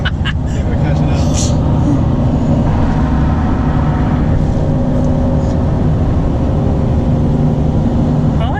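A Miata-engined kart running at full throttle on a track, its loud continuous engine roar heard from nearby, with excited voices talking over it.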